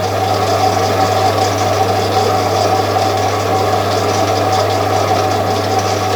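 A milling machine driving a homemade broaching tool, a steady loud mechanical hum with a strong low drone and constant whirring vibration, running evenly without pause.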